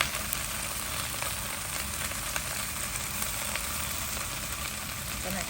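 Baby bok choy stir-fries in a pan, a steady close hiss and sizzle of hot oil with faint scrapes of stirring throughout.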